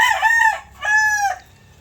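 A chicken crows twice in quick succession, loud and close, with bright harmonic calls and a short pause between them.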